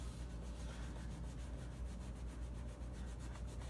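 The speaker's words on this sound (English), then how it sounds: "and then I'll scrub." A rag scrubs over a Danner leather boot in steady back-and-forth strokes. The rubbing is quiet, close and even.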